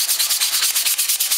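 Steady rhythmic rubbing of fine 220-grit sandpaper smoothing carved MDF, quick even back-and-forth strokes close up, with no voices.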